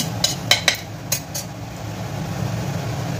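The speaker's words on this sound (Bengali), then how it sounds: "পাঁচফোড়নটা হালকা এই তেলেতেই একটু নেড়ে চেড়ে নেব" Panch phoron five-spice being stirred in hot oil in a pan, heard as a few quick metallic clinks and scrapes of a utensil against the pan in the first second and a half, then a low steady background.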